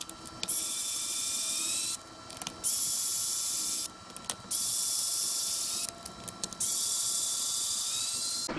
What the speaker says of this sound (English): It looks like 1, 2, 3, 4 screws and it'll come off.